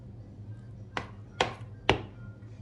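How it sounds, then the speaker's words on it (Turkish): Pide dough being stirred with a spoon in a bowl, with three distinct knocks of the spoon against the bowl over a quiet background. "hamurumu bu şekilde 3-4 dakika sakız kıvamını alana kadar kaşıkla böyle karıştırıyorum"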